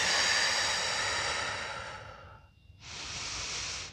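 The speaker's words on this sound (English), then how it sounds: "Taking a nice deep breath." One slow, deep breath is drawn in during a Swiss ball posture exercise, a long airy inhale that fades into a brief pause and then a steady breathy exhale, close and alone.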